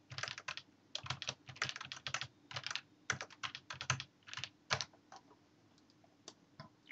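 Rapid bursts of computer keyboard typing, close and crisp, with short pauses between clusters of keystrokes and a few isolated clicks near the end; no voices.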